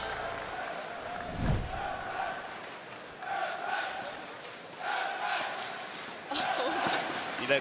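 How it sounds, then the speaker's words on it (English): A large esports crowd at an Apex Legends Global Series watch party chants in repeated rhythmic bursts, distant and echoing, rising and falling over a steady roar. "The crowd is chanting"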